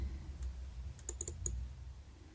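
A computer mouse clicks in a spreadsheet: a few sharp, quiet clicks, one alone and then a quick cluster of three or four, over a low background hum with no voice.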